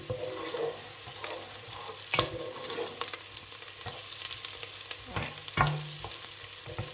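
Onions softening as they fry in a pan, a continuous close sizzle broken by sharp scraping strokes of a spoon stirring them, with no voices.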